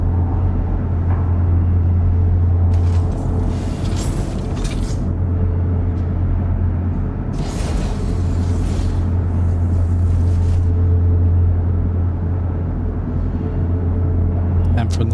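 The Mirai Guardian QI ship in Star Citizen gives a deep, steady engine hum with low rumbling tones and a few swelling whooshes, heard close and continuous while a voice talks over it.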